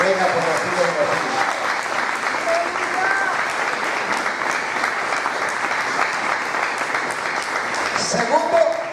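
A church congregation applauds steadily and loudly throughout, a dense wash of clapping with a few voices rising near the end.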